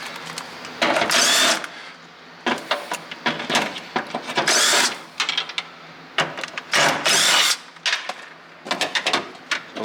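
Power tool loosening the 10mm battery nuts on a Lexus IS300 drift car, heard as several close, loud bursts of whirring and grinding separated by short pauses.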